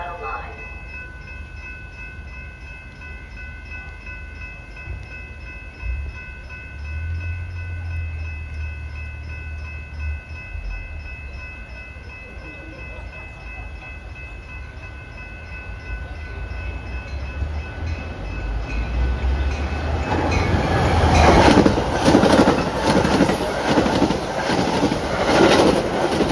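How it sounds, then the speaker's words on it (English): BNSF commuter train number 1308 bound for Chicago Union Station arrives at Downers Grove station, a low rumble building into loud clattering wheels and rail noise toward the end, with faint station ambience beforehand. "BNSF train number 1308 to Chicago Union Station is now arriving."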